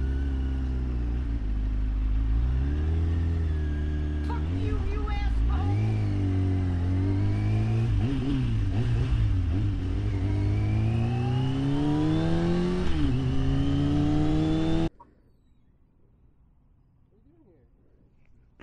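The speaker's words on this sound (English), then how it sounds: "this traffic's unbearable" A motorcycle engine revs and shifts through rising and falling pitches while riding in road traffic, loud and close for most of the stretch, then cuts off abruptly into near silence.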